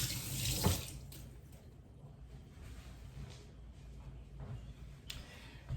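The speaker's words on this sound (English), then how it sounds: "Give my hands a rinse off." Tap water runs steadily into a kitchen sink as hands are rinsed off during homemade guacamole prep, a soft continuous splash that swells briefly near the start, then settles into a quieter flow.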